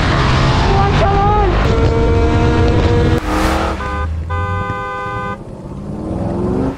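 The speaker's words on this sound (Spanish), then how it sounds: "Esta de aquí es la nueva moto de mi amigo Xavi. Es una KTM Duke 890 GP." A KTM Duke 890 GP motorcycle engine runs loud and close the whole time, its pitch shifting as it revs, with a steady horn-like tone near the end.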